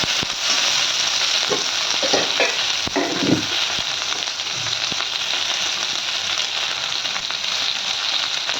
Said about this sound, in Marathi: त्याचबरोबर अद्रक लसूण पेस्ट टाकून घेऊयात आपण. आता दुसरं मिक्स करून घेऊया.